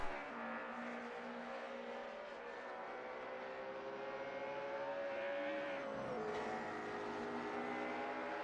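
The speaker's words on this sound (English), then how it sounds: "With a pop of exhaust there from Forrest McCormack as we come through the final couple of corners." A DTM race car at Hockenheimring in a sim racing game, its engine droning loud and steady, with a shift and a brief exhaust pop near the end.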